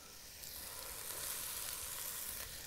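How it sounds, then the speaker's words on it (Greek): Chopped onion sizzles steadily in a hot pot of oil, a continuous broadband frying hiss with faint stirring and no talk over it. "Και πάμε να βάλουμε το κρεμμύδι μας"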